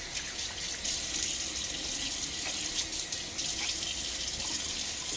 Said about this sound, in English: I'll splash my face and we'll get to lathering up.